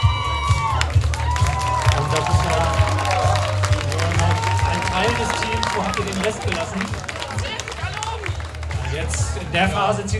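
Crowd of spectators at a school dragon boat championship clapping and cheering steadily for several seconds, with whoops and a loudspeaker voice talking over the applause throughout.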